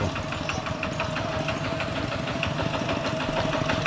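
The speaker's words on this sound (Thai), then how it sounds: "เสียงรถไถมาเลย" A tractor engine idles steadily with a rhythmic knocking chug, loud and close throughout, in a hill village.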